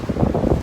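Gusty wind buffeting a microphone outdoors, a brief low rumbling whoosh with uneven surges.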